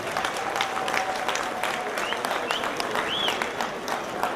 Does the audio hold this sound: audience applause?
yes